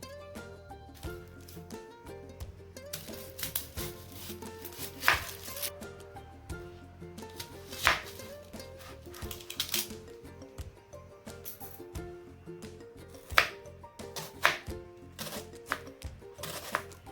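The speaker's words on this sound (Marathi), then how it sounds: "आपण आता एक मोठा कांदा चिरून घेणार आहे" A large onion is chopped with a knife on a board while preparing Mumbai-style bhel puri, giving a quiet run of uneven taps and clicks with a few sharper knocks. No voices are heard.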